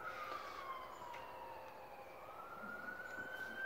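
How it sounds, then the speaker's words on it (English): An emergency vehicle siren wails past at a distance, its pitch gliding down then climbing again over about four seconds, faint above low outdoor rumble, with no talking. "We have a siren passing right now."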